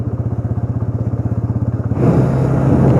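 Motorcycle on a road, starting with a rapid rhythmic engine putter that swells into a louder, steady rumble as it speeds up, close and with no talking.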